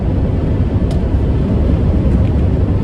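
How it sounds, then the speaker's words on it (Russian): Strong crosswind of about 22 mph buffets a moving car on a North Dakota road, a constant loud roar of wind and road rumble with no voices. "Очень сильный боковой ветер"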